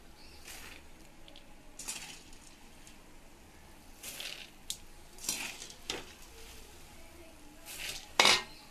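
Puffed rice being scooped out of a pan after brief frying, with scattered metal spoon scrapes and clinks against the cookware, the loudest clatter coming near the end, in a quiet kitchen.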